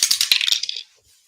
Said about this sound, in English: And we lose the dice.